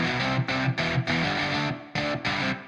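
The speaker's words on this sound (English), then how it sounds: "on its own, one of the main guitars sounds like this." A single distorted electric guitar layer from the UJAM Legend plugin plays loud chugging chords in short bursts separated by brief gaps, sounding heavy and big, with no voices.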